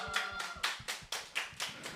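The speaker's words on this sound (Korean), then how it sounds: "큰 박수로 보답해 주시면 감사하겠습니다" Participants in an online gathering clap from their separate rooms, heard as a few distinct, rhythmic hand claps, faint and fairly close, with no talk.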